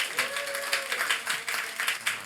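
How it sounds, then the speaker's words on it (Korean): A church congregation gives a brief burst of hand clapping to welcome a guest, with the close claps coming in quick rhythmic pulses. "여러분 큰 박수로 맞이해 주세요"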